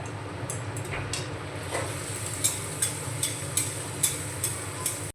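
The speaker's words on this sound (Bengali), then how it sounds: "এইভাবে আমি সবগুলো কচুরি ভেজে নেব।" Green pea kachori deep-fry in a kadai with a steady hiss of oil, while light regular taps sound over it.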